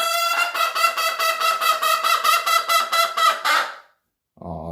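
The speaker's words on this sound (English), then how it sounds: "she's been having some arguments with some of the other chickens lately" A backyard hen squawks in a long run of loud, rhythmic, honking cries, about fifteen harsh calls in steady succession, close to the microphone, then falls silent before a brief further call.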